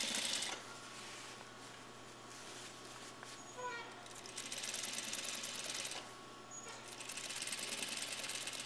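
A sewing machine stitches along a basted skirt waistband in steady mechanical runs with brief pauses, close and moderately loud over a constant low hum.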